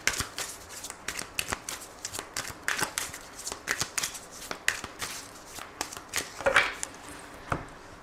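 Oracle and tarot cards being shuffled and handled, a rapid run of crisp riffling flicks and soft slaps that continues steadily and close up with no talking.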